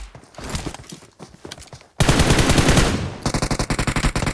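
Bursts of automatic gunfire from the battle royale game PUBG, a scattered volley of loud shots followed by a dense sustained stream of fire and then a rapid rhythmic string of individual rounds.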